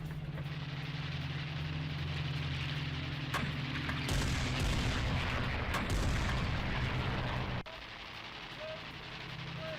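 Heavy booming blasts and rumbling over a constant low engine-like drone, with a few sharp cracks; loud and sustained, then the noise drops abruptly near the end, from a drone attack on a Ukrainian ship in the Black Sea.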